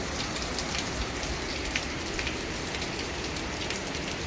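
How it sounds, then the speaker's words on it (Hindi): Steady rain falls in monsoon-season Lonavla, a dense, even hiss of drops on surfaces with scattered brighter pattering, continuous and fairly close with no voices. "गिरती हुई बूंदें,"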